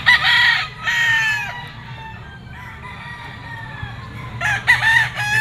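A three-year-old Sweater gamefowl rooster crows loud and close, two long crows at the start followed by another near the end, with a quiet pause of background murmur between them.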